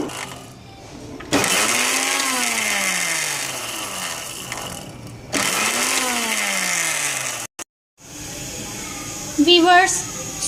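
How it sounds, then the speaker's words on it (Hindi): A loud electric mixer grinder grinding fried fennel seeds and cumin whirs in two long bursts, its pitch rising and falling as the motor speeds up, with brief pauses and a short rattle afterward. "इसको फ्राई कर लेने के बाद मैं इसको मिक्सी में ग्राइंड कर लूँगी।"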